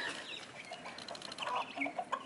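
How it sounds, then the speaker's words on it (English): Roosters cluck and chatter near a house on Kauai, Hawaii, with short, bright calls scattered over a soft outdoor background and rising toward the end. "keeps feeding the roosters and now they're never gonna leave"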